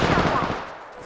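Gunfire in Apex Legends: a brief loud burst of rapid automatic shots, close and dense, fading within a second.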